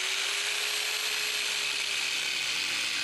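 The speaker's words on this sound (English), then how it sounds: "I'm going to do a plunge cut, which means I'm going to go straight down without drilling any pilot holes" Dual saw plunging straight down into a workpiece without a pilot hole, a steady high-pitched whining cut that runs continuously and loud at close range, with no voices over it.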